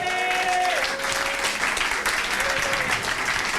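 A church congregation at a Sunday worship service breaks into loud, dense applause as an offering of acclamation, a continuous roar of clapping with voices and cheering mixed in.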